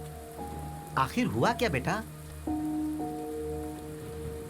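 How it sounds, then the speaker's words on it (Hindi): Heavy rain falls steadily as a constant hiss beneath the scene, with a person speaking briefly and sustained tonal music over the downpour. "इतनी बारिश हो रही है"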